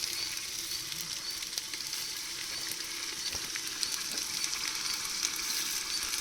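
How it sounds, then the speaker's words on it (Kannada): Onion, curry leaves, chillies, cumin, mustard seeds and ginger-garlic paste fry in a pan for tomato bath. The sizzle is steady and close, with occasional stirring clicks and no talk. "ಈರುಳ್ಳಿ, ಕರಿಬೇವು, ಮೆಣಸಿನ್ಕಾಯಿ, ಜೀರಿಗೆ, ಸಾಸಿವೆ, ಶುಂಠಿ ಬೆಳ್ಳುಳ್ಳಿ ಪೇಸ್ಟ್ ಹಾಕ್ತಾವ್ರೆ."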